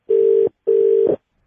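Two long, identical telephone ringback tones sound while a call is placed, each about half a second, with a short gap between, clear and close.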